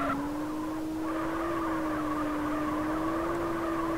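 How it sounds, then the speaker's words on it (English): A Toyota Soarer SC300 with a manual gearbox holds a steady, droning high-revving whine in GTA, wavering slightly in pitch as though the revving is faulty, with no one talking. "The car definitely sounds like it has problems with the revving"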